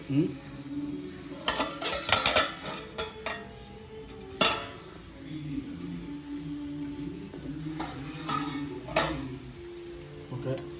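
A metal lid comes off a pot of cooking chicken peera with sharp clanks and scraping clatter, scattered in several bursts over a low background, with a voice faintly underneath.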